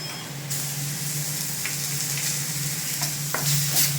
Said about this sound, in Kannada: ಇದನ್ನು ಚೆನ್ನಾಗಿ ಮಿಕ್ಸ್ ಮಾಡ್ಕೊಳ್ಳೋಣ. ಈರುಳ್ಳಿ ಜೊತೆ ಹಸಿ ವಾಸನೆ ಹೋಗೋವರೆಗೂ.